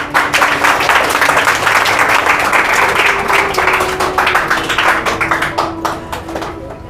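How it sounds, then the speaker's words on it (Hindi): Sustained audience applause at a school medal ceremony for first-division students, dense hand clapping throughout, loud and steady before thinning slightly toward the end. "लाइए एक ताली बने।"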